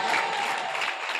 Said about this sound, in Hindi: एक बार जोरदार तालियों से आप उनका इस्तेमाल फरमाएं दोस्तों